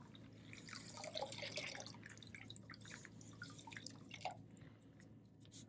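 A wet plaster posterior slab for a trimalleolar ankle fracture splint drips water steadily, small scattered drips and a soft wet squish close by, with faint room hum beneath and no talking.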